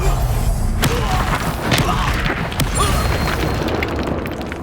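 A Confringo blasting spell explodes in the Hogwarts Legacy video game, a dull booming thud within continuous loud combat sound and music, with further impacts following.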